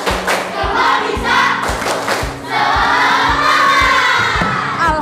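A classroom of children performs the tepuk semangat clapping chant, voices chanting loudly together over a steady rhythm of sharp group claps and thumps, close and energetic throughout.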